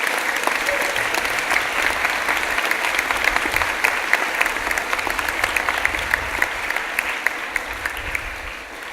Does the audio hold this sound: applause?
yes